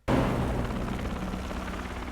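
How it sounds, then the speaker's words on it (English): A helicopter in a zombie action film scene, a sudden loud onset into a heavy, sustained rotor roar and rumble that holds close and steady throughout. "he gets to escape in a helicopter"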